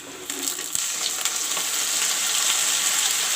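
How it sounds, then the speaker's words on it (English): Ginger garlic paste hits browned onions frying in hot oil, giving a loud, steady, close sizzle with brief stirring scrapes over the top. "Now I will put in the ginger garlic paste"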